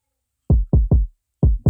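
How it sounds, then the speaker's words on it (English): Four punchy, deep kick drum hits from an Afrobeats beat kit in FL Studio play alone, the first three in quick succession and the last after a short pause. "So this is one of the kicks from there."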